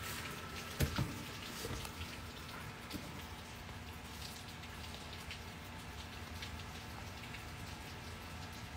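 Heavy rain pours down steadily in a dense, even hiss, with a couple of brief knocks near the start and no voices.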